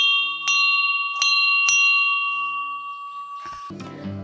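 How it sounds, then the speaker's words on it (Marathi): A metal house bell at a home in Mithbav, Devgad, Konkan, rings three times in a row. Each strike is clear, bright and long-ringing, followed by a lower clang and some rustling at the end. "बघा, आत ऍक्च्युली आमच्याकडे बेल ही लावलेली आहे,"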